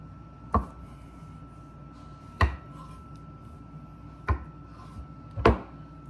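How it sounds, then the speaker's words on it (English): A knife chops medium-boiled eggs on a board for a pea salad, giving four separate, sharp, close thuds spaced a second or two apart over a quiet background, with no voices. "I'm going to chop up our eggs."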